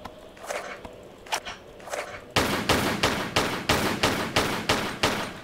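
Lara firing in Tomb Raider IV: a few sparse, lighter shots at first, then a loud, steady run of about ten evenly spaced gunshots at a brisk rhythm.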